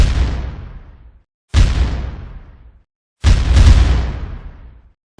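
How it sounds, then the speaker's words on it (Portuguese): Three heavy booms of naval cannon fire at the Battle of Riachuelo ring out one after another, each a loud blast trailing off into a long rumbling decay. "ocorreu o primeiro combate com tiros de canhão"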